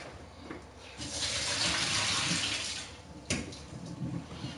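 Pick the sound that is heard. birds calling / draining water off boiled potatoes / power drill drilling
draining water off boiled potatoes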